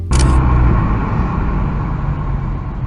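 A car engine rumbles close by with a steady low idle-like roar after a brief sharp click at the start, sustained and loud throughout.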